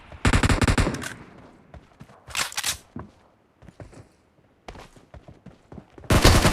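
Gunfire in the mobile game Battlegrounds Mobile India (PUBG) comes in loud rapid automatic bursts, with one long burst at the start, shorter volleys through the middle, and another heavy burst at the end.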